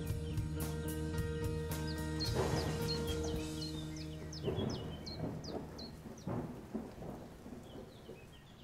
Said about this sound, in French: Une demi-heure après, la drache commençait.